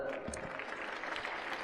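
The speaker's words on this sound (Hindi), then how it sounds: "इसको जोरदार ताली बजा दो" Faint, steady clapping from a seated audience at a gathering with yoga guru Swami Ramdev, broken by a few louder close claps, with a soft voice briefly under it.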